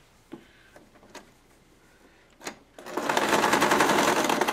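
A sewing machine stitching a Waldorf doll gives a few isolated clicks and thumps, then starts up into a loud, steady, rapid mechanical whir of continuous stitching, close by and alone.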